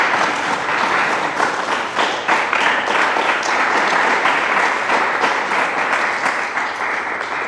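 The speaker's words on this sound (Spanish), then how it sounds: "Da un aplauso al Señor." A church congregation applauding together, dense sustained clapping from many hands filling the room steadily for several seconds, loud and close, with no speech over it.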